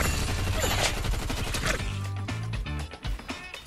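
The reindeer weapon in Fortnite fires loud, rapid bursts of gunfire with booming low thuds, dense and continuous through the clip with no talking.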